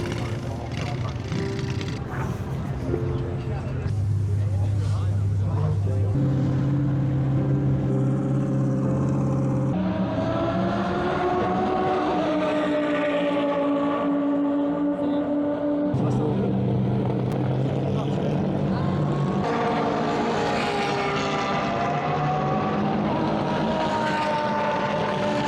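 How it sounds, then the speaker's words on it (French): GT3 Revival race cars at a GT World Challenge meeting pass on track one after another, engines rising and falling in pitch as they go by at moderate distance, with a steady loud drone throughout. "on a fait ce petit passage en piste des GT3 Revival"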